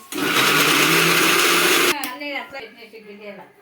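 A mixer grinder whirs loud and steady for about two seconds while grinding chutney with a little salt, then cuts off abruptly, leaving a brief rattle and a voice talking afterward.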